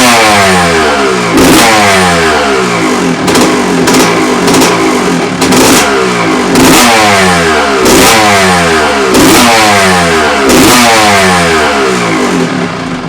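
A 1987 Honda CR125 two-stroke motorcycle engine runs loud and close at a low, uneven idle, with repeated revving surges and clattering pulses throughout.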